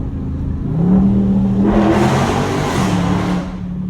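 A Dodge Scat Pack's engine hums low and steady while driving, swelling into a brief rev before easing back. The sound is close and continuous, and no one speaks over it.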